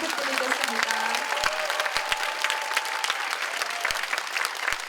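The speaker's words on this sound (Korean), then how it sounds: "문영배 전 헌법재판관님께 다시 한번 응원의 박수 부탁드리겠습니다." An audience applauds former constitutional judge Moon Hyung-bae at the close of a lecture on democracy and impeachment at Busan's Democracy Park, steady dense clapping throughout with a few sharper individual claps and a voice briefly heard over it.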